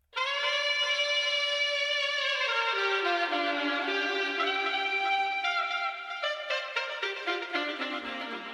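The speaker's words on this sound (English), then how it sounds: "So it's got a lot of reverb and delay added to it just to make it feel a little bit more mixed and natural." An arcade-style sampled melody, drenched in reverb and delay, plays alone as a steady bright line, smearing into echoing repeated notes toward the end.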